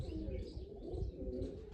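Pigeons coo softly nearby, low burbling calls with a few faint chirps, quiet and uneven over a low background rumble while a flock of racing pigeons circles high overhead.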